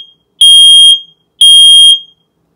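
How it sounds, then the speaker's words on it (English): Nest Protect smoke alarm sounding during its self-test, two loud piercing electronic beeps of equal length evenly spaced, close by and alone in silence. "The alarm will sound. It's going to be loud."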